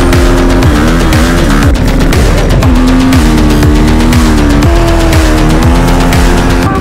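A Simson moped revs hard at full throttle during a burnout, a loud continuous engine roar with rising and falling pitch sweeps and rasping rear-tire squeal throughout, close and dominant with no voices.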